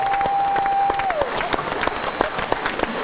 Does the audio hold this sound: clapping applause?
yes